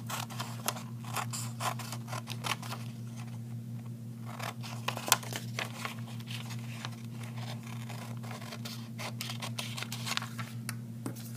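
Scissors snip through paper exemplars on a classroom-style desk, a scattered series of quiet, sharp cuts and light paper rustles over a faint steady hum.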